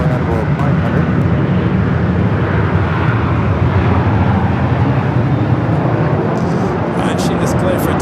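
Lufthansa-bound airliner on flight 457 taking off from runway 24 left at LAX, a loud continuous broadband jet roar sustained throughout with no breaks.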